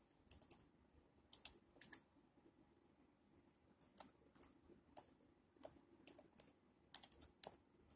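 Quiet typing on a computer keyboard, with short bursts of crisp key clicks separated by brief pauses over faint room hiss.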